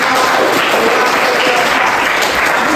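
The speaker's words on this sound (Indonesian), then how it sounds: "Oke, tepuk tangan." A classroom group of students applauds steadily for nearly three seconds, a dense, loud wash of many hands clapping at once with no break and no voice above it.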